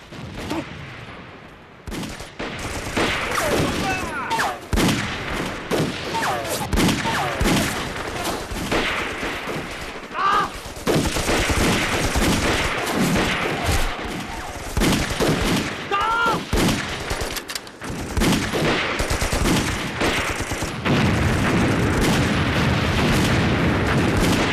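Dense gunfire exchange in a war drama about sniper combat between Communist and Japanese troops: rapid rifle shots, machine-gun bursts and booms crackle loud and continuous, with voices shouting at points.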